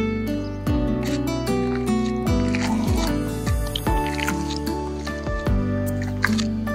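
Chicken pieces squished by hand as salt is worked in for marinating, soft wet squelching and dripping close up, repeated in irregular handfuls over background music.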